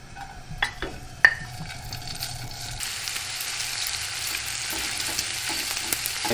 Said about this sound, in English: And we start to saute the bacon. Now this bacon it's chopped really small.